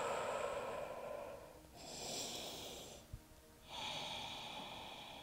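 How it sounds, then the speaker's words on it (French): Slow, drawn-out breaths during beginner yoga stretching: two long airy exhalations separated by a short pause and a faint inhale, close to the microphone and quiet, with no speech. "Apaise, relâche les muscles en utilisant des longues expirations."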